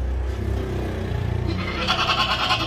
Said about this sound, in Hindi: भागता दौड़ता सेहतमंद खाता पीता बकरा है ये